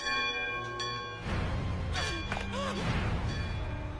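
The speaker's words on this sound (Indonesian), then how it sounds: "setelah Beppo tiba di Pulau Zou, berbunyi lonceng yang ternyata lonceng penyerangan." An attack alarm bell rings out with sustained metallic tones, followed by a clattering crash and thuds as a city gate is forced open, the ringing continuing in the background.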